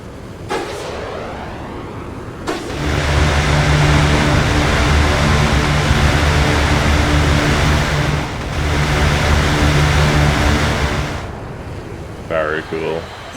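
The A-10 Thunderbolt's rotary cannon roars in Broken Arrow, two long, dense, loud bursts of buzzing gunfire, each lasting several seconds, followed by rumbling impacts.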